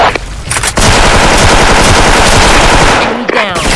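M4A1 rifle fire in a video game rattles out as loud, rapid automatic bursts, a sustained volley after a brief opening shot, tailing off near the end.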